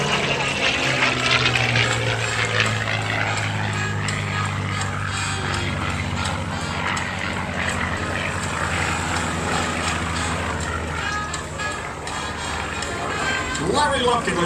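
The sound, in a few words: North American P-51 Mustang propeller aircraft flying a loop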